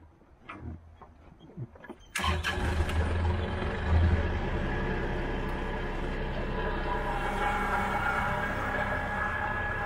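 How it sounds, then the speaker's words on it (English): A tractor-mounted leaf blower's engine starts with a sharp burst about two seconds in after a few faint knocks, then settles into a loud, steady roar that holds to the end. "we're gonna fire up the blower and I'll show you how it works"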